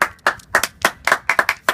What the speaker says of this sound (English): Let's all give Kevin a round of applause.